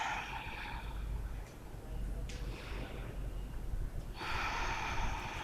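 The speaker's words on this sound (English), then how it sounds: "Full, slow, steady breath." Full, slow, steady breaths during a Baptiste-style power yoga class, with long airy inhales and exhales at the start and again near the end over a low, constant room hum.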